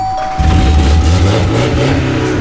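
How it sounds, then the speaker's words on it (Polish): An old Volkswagen Golf engine cranks and catches after a chime-like bell tone, then settles into a loud, rough revving idle close by, with no talking. "uruchamiamy dzwoneczek tym ten piękny ryk silnika"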